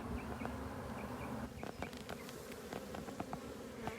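Honeybees buzz around an open hive in a steady, dense drone close by, with small clicks and knocks of frames being handled.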